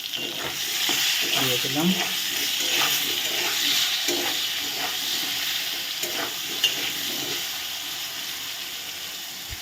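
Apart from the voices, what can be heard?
potatoes frying in a pan with salt and turmeric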